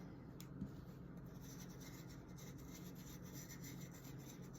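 Dixie Belle colored wax rubbed over chalk-painted furniture, a faint, soft, continuous rubbing and scuffing of close strokes on the painted surface.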